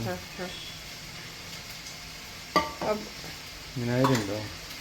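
Coconut oil spatters and sizzles in a pan on a stove while pork fries, with a steady crackle under intermittent talking and a few louder pops.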